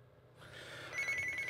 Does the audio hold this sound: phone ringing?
yes